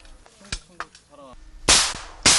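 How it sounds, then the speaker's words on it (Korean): Live rifle gunfire during frontline military infiltration training: two loud, sharp broadband cracks near the end, preceded by scattered rustling, clicks and brief voiced sounds. "실제로 발사되는 총소리를 들으니"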